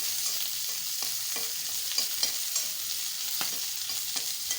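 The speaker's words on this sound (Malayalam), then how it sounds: "ഈ പച്ചമുളക് നമ്മൾ നന്നായിട്ട് ഒന്ന് വഴറ്റി കൊടുക്കുക. ഒന്ന് ഇളക്കി വഴറ്റി" Green chillies sautéing in oil while being stirred, a soft crackling sizzle punctuated by light spatula scrapes at irregular intervals, close and quiet with no voices.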